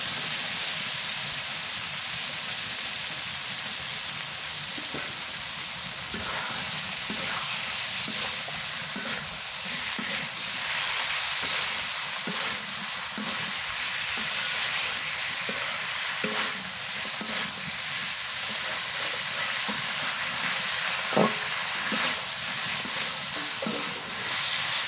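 Raw green banana pieces fry in spice masala for a village-style egg curry. The pan gives a continuous, close, fairly loud sizzle with intermittent stirring scrapes and no voices.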